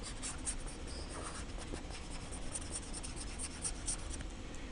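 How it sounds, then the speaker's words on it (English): Steady dry scrubbing of an eraser across a board after writing out a calculation, a continuous soft rasp with faint rhythmic strokes, close and alone. "Okay, now I need to erase this again."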